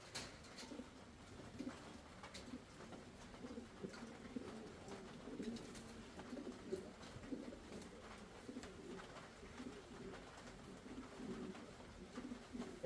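Racing pigeons in a loft give a soft, continuous low cooing, faint and steady, with light fluttering and scratching and no talking.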